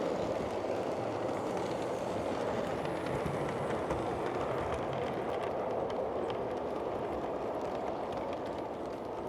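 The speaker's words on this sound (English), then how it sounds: "This is the Dunckley Northern Premier Passenger Train, the Limited" A model railway passenger train, the Dunckley Northern Premier Limited, runs along steadily with a low, continuous rumbling whir, faint and even throughout, with no voices.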